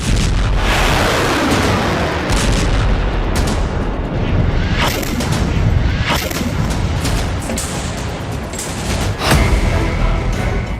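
Explosions from a Hezbollah attack in news footage, a dense, continuous roar of blasts and rumbling booms with several sharper bursts standing out, loud and sustained throughout.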